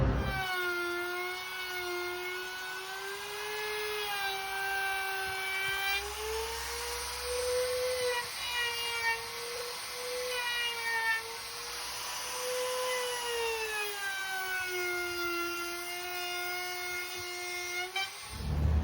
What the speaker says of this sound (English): The edge treatment of the top is getting a 45-degree chamfer just with my old Porter Cable laminate trimmer